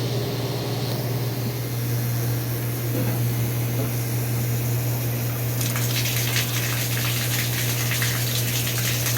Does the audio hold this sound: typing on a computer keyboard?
no